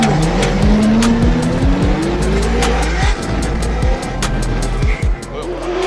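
A drift car at a Formula Drift competition in Seattle screams through a run, its engine revving hard and sliding in pitch while tires squeal loudly, with sharp clicks and pops cutting through.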